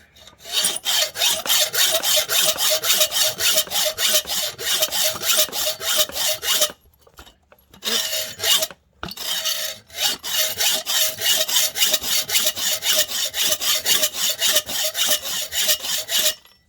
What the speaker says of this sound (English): I'm sawing back and forth with the hacksaw using the existing little middle finger thing as a guide